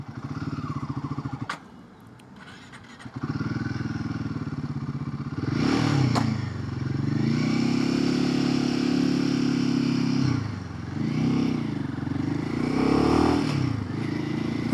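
A Royal Enfield Himalayan 450 motorcycle engine idles with a clunk, then labors and revs unevenly as the rider pulls away in third gear, loud and close with rising and dipping engine drone.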